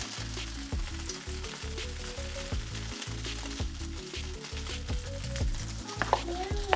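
Food sizzles in a hot pan, a soft crackling hiss running throughout, faint beneath steady tonal sounds with brief sharp ticks near the end.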